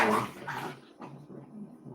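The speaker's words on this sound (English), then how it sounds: "I don't know what is going on with these dogs, by the way. They are going nuts." Dogs barking and yipping in the background, a burst of loud excited barks that fades into softer whimpering and distant yelps.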